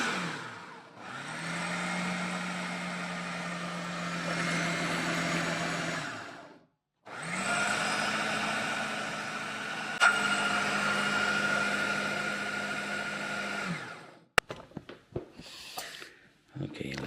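Ninja food processor running in short bursts on chop or puree to blend oat bread ingredients, a loud steady whir in two long pulses with a brief pause between, then stopping with a few clicks and knocks.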